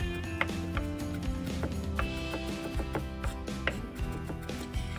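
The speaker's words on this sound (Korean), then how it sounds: "마늘은 으깬 다음 잘게 다져서 준비를 해주세요" Garlic cloves crushed and finely minced with a knife on a cutting board, a close, irregular series of crisp chopping taps and knocks.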